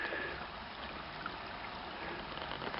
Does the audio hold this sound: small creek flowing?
yes